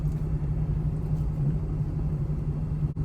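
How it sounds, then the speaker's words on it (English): Room air conditioner running with a steady low rumbling hum, constant and fairly loud, filling the space without pause. "I'm sorry about the noise. It's the AC."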